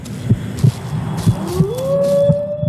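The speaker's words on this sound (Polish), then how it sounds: "Kurde, wilki wyją." Wolves howl in The Witcher 2, one long rising tone drawn out over a low, rhythmic thumping pulse.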